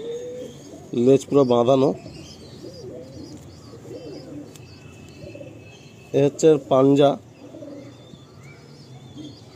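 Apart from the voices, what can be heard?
Kalsira pigeons cooing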